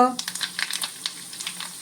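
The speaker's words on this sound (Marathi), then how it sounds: "तेल बघा छान कडकडीत तापलंय आता आपण खमंग फोडणी करूया" Mustard seeds, cumin and asafoetida crackle and sizzle sharply in hot oil, with quick popping bursts over a steady frying hiss.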